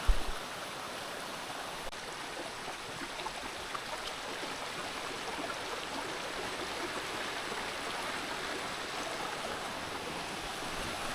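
A waterfall in a Konkan forest rushes in a steady, broad roar that holds even from start to end, with no voices over it.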